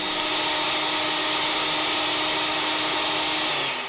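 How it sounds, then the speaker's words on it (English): A kitchen blender grinds frozen bees, a steady, loud, dense motor whir with a high grinding edge that holds unchanged throughout, with no talk. "We grind them for a few minutes in the blender"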